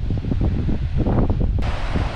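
Wind blusters across a beach on an island, roaring and gusting against the microphone in a continuous loud rush, with a possible faint wash of surf underneath.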